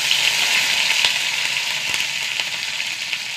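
Curry leaves and dried red chillies with fenugreek frying in hot oil for a Kerala sadhya-style kurukku kalan, a steady close, loud crackling sizzle with sharp pops throughout, no voices.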